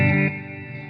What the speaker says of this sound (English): This is bridge with the coil split.